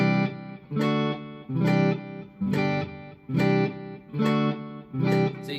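Guitar chords strummed in a steady pulse with short audible gaps between changes as the fretting hand lets go, each chord ringing fully and close before dropping out briefly.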